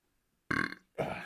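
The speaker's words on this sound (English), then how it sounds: "There it is, first burp of the podcast." A loud, close burp in two quick voiced bursts, heard alone against near silence.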